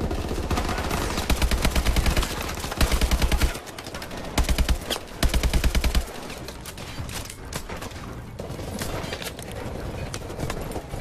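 Call of Duty Advanced Warfare campaign gunfire crackles in loud rapid automatic bursts, several separate volleys of shots over a busy background of combat noise.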